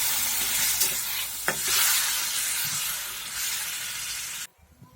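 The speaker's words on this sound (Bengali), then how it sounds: "মশলাটা দিয়ে ভালো করে ভাজি করে নেব" Spice paste of chili powder, cumin and coriander frying and sizzling in a pan for a fish curry, with a steady close hiss and stirring scrapes that cut off abruptly near the end.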